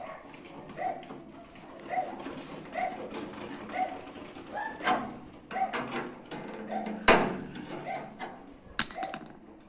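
Metal of a truck hood on a 1113 being hammered, giving a steady series of close, ringing clanks and knocks at an even rhythm with a few louder sharp blows.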